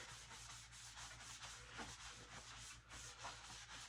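Soft, repeated rubbing strokes of a damp cloth wiping chalky residue off a wet-sanded, sealed wooden gun stock, close and quiet, in a steady back-and-forth rhythm.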